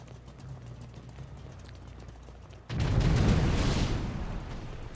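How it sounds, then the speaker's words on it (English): A bomb detonates at a parking garage, heard from a distance as a sudden loud rumbling blast that cuts in midway and sustains a broad roar, after a quieter stretch of street ambience. "the bomb just went off"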